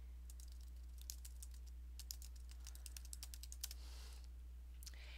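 Typing on a computer keyboard, a quiet, uneven run of close key clicks in short clusters over a steady electrical hum, with no voice present.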